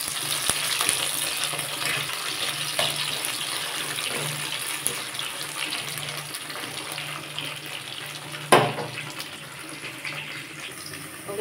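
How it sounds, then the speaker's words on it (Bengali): Bitter gourd pieces frying lightly in oil, a steady broadband sizzle hissing continuously for several seconds, close and even, with a brief clatter near the end. "বন্ধুরা, আজকে আমি শুক্তো রান্না করব, তাই তেলের মধ্যে উচ্ছেগুলো দিয়ে দিয়েছি। উচ্ছেগুলো আমি একটু হালকা হালকা করে ভেজে নেব।"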